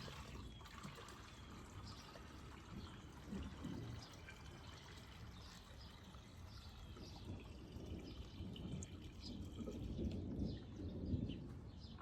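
Water from a bucket pours through a funnel-like top into a garden sprayer, a quiet, continuous gurgling trickle and splash that rises slightly in the final seconds, with no talking.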